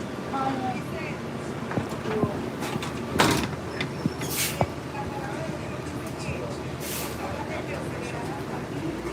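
A bus drives along with its door open: a steady broadband road and engine rush fills the cabin, broken by a few sharp rattling bangs and faint muffled voices.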